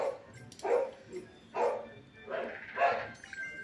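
A dog or wolf in a video game barks in several short, separate bursts at moderate volume.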